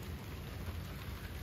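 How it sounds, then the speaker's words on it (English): Rain falls steadily as a soft, continuous patter, faint and even throughout with no voices. "so it's a rainy day here"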